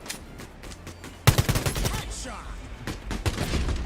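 Bursts of rapid gunfire from the video game Quantum League, a sudden loud volley of close shots after a quieter opening, continuing in scattered cracks and rattles with faint voices underneath.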